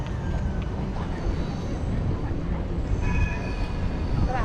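Trains and trams at the central train station in Amsterdam beside the canal, heard as a steady rumbling rail and street din with faint high wheel squeals toward the end, continuous and moderately loud throughout.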